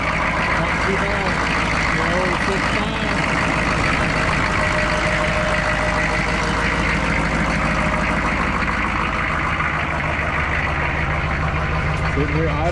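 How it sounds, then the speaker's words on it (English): A Chevy 6.5 diesel service truck engine idling, a steady low rumbling clatter held close and loud throughout, with someone talking over it. "Sitting here idling, not really smoking at all. Sounds pretty good."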